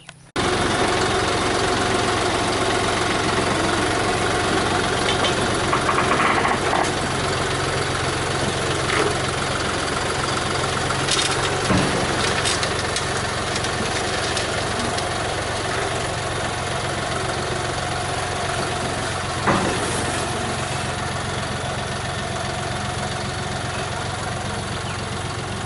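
A brand-new John Deere 5075E tractor engine runs steadily at a low idle throughout, a loud continuous mechanical drone with faint vibration and occasional small clanks.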